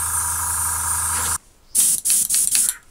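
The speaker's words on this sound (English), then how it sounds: "Again, checking our spray, looks good." Airbrush test-spraying paint while painting Infinity army miniatures: a steady, loud hiss for over a second, then silence, then several short bursts of spray in quick succession.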